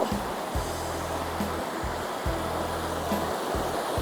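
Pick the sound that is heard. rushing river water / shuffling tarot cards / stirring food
rushing river water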